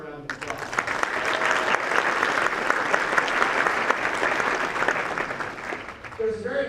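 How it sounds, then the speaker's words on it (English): Applause at a college fieldhouse ribbon cutting ceremony fills the room, a dense sustained round of clapping from a crowd that tapers off near the end. "What do you think about giving them a round of applause?"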